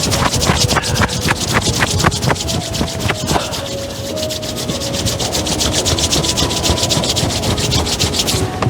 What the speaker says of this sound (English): rubbing your hands together